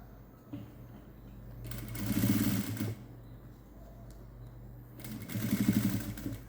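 A sewing machine stitching a frilled long gown made from an old silk saree: two short runs of rapid, rattling stitching separated by a pause, with a steady low motor hum throughout, fairly quiet and close.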